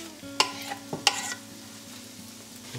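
Onions and mushrooms frying in a pan give a soft, low steady sizzle, broken early by two sharp clinks of a utensil stirring against the pan.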